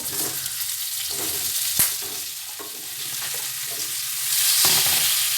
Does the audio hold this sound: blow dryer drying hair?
no